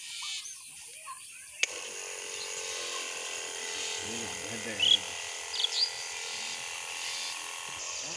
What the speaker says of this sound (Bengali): দেখুন ছিটানো হচ্ছে মেশিন দিয়ে